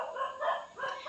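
Dogs barking outside a house in the evening, a few muffled yaps and barks in quick succession, moderately distant, with no talk.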